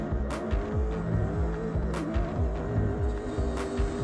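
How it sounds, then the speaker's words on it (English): A four-wheel-drive Toyota rally car races on a Dakar Rally stage, its engine roaring loud and close, revs rising and falling with tire noise and sharp bursts in between. "In the cars, Nasser Al-Attiyah was first off the line in the four-wheel drive Toyota."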